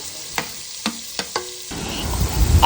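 Garlic and onion frying in butter in a pan, a low sizzle broken by a few sharp knocks of a spoon stirring, with the frying growing louder near the end.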